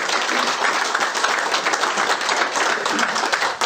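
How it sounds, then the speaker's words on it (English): A round of applause from an audience at a live FAI Cup draw event: dense, steady clapping from many hands, fairly loud and continuous throughout, without talk. "Round of applause for the two lads."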